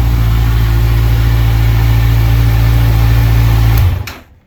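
A 2012 Kawasaki Z1000 streetfighter motorcycle with a Leo Vince exhaust idles with a deep, steady, rumbling drone, loud and close, then cuts off abruptly near the end, leaving near silence, with no talking.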